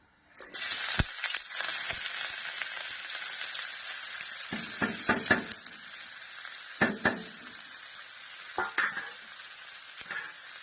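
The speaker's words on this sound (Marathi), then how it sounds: "चला आता कांदा कांदा घेते टाकून" Onion frying in a pan: a continuous bright sizzle, broken by scraping and clinking stirring strokes, some in quick clusters.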